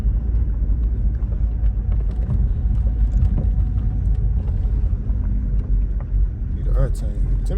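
A 6th gen Chevrolet Camaro SS V8 idles with a steady deep rumble, close and loud, while people talk over it.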